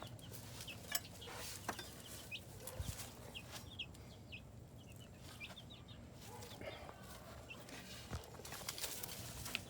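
Backyard chickens cluck and call under attack from a snake, with scattered short clucks and chirps that come and go at a middle distance over rustling and faint background noise.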